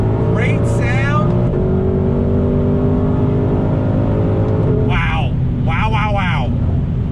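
Ford Shelby GT350R Mustang pulling away under light throttle, its engine note rising and falling through quick gear shifts, loud and close, with brief bursts of someone talking over it partway through.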